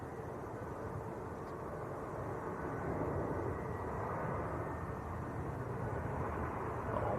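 A Ryanair jet drones steadily on short final into Manchester Airport, a broad, continuous engine roar at moderate distance that holds level and swells slightly partway through, with no talking.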